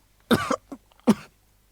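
Two close, harsh coughs with a small catch between them, short and abrupt against silence.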